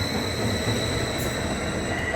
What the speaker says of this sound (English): as soon as that train's departed